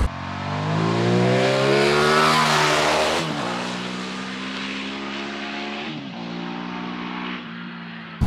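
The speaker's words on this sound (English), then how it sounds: "This is a bike really suited for sort of doing under 60, cruising around these sorts of roads" A 2021 Ducati XDiavel Black Star motorcycle engine while riding on open roads, a loud, close, sustained drone that rises steadily in pitch, drops at a gear change and settles into a steady cruise, with wind noise and no voices.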